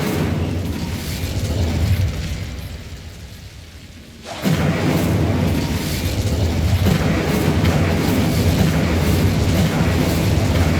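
An Incendio fire spell cast in Hogwarts Legacy, heard as a dense, roaring whoosh of flame that dips to near quiet for a moment, then surges back loud and sustained to the end.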